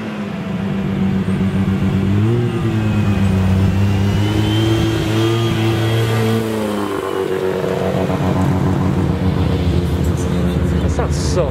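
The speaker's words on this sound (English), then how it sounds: "Just listen to that rotary." A rotary-engine car revs loudly at a car meet: a steady, sustained engine roar that climbs in pitch, holds high, then eases back down, with a continuous rumble beneath.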